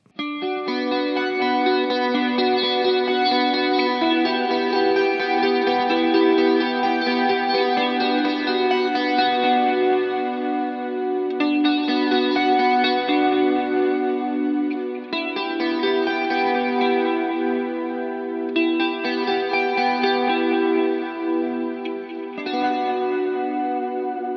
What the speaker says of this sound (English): we're going to add a compressor, a flanger, and a delay up front